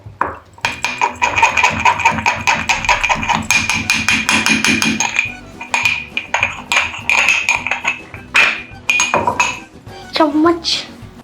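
A metal spoon clinks rapidly and repeatedly against dishes while chilli tea is being made, bright ringing taps in quick runs close up, with voices talking in between.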